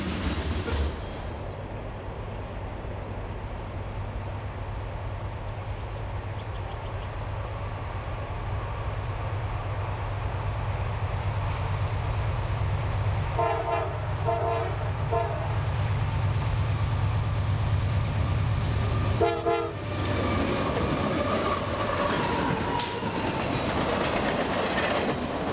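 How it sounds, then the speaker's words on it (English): A CSX mixed manifest freight train rolls past a control point at a siding. The loud, continuous rumble carries wheel clatter throughout, and short tonal blasts of the horn come in twice, around the middle and near the end. "Q514-17 is a mixed manifest train from Nashville"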